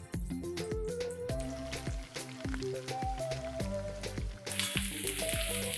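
Roughly cut red onions frying in a pan give a soft sizzle beneath a bright, plucked musical backing with steady notes, and the sizzling grows brighter and louder over the final second or so.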